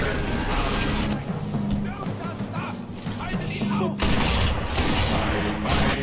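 Rifle shots and explosions in the video game Sniper Elite V2 Remastered, set at the Kaiser-Friedrich Museum: loud booming gunfire with heavy thuds, a sharp blast near the end, and a voice talking over it.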